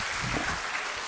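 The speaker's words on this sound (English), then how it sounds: "Clap for him." Brief burst of applause for a speaker at a national-level pharmacy conference, a dense continuous wash of many hands clapping in a room, short and even.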